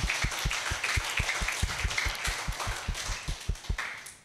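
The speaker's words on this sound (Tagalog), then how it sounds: "malakas na palakpak po para po sa Panginoon" A church congregation claps in unison at a worship service, producing a loud run of sharp, evenly spaced claps in a steady rhythm with a faint crowd murmur behind.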